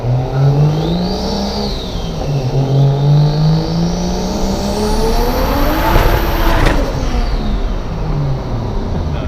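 Single-turbo BMW 335i on its first pulls: a loud, close engine climbs and falls in pitch through repeated hard accelerations, its roar sweeping up and easing back with strong harmonics.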